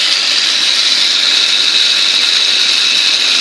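Steady engine running in a homemade car drive system, a constant loud hissing whir with no change in pitch, heard alone and close.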